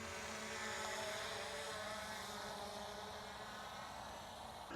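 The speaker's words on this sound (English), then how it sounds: "I'm going to bring the drone back in" A DJI Mini 5 Pro drone flying outdoors, giving a steady, continuous propeller whine and buzz at moderate level that holds without breaks or talk.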